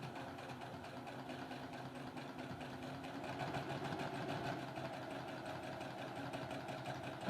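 Sewing machine running continuously while stitching half square triangle quilt blocks, a fast even motor whir with rhythmic needle chatter, close and steady throughout, no one speaking.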